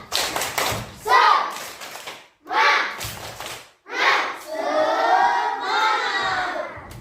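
Primary school pupils in a classroom perform a rhythmic spirit clap, bursts of patterned clapping alternating with loud chanted group shouts, close and lively.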